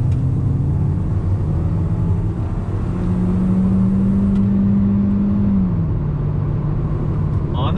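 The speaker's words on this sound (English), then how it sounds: "So second gear on throttle." A 2020 Kia Soul GT-Line pulls hard in second gear on a twisty road, its engine note rising in a steady drone that climbs in pitch and then eases off, heard from inside the car over constant road rumble.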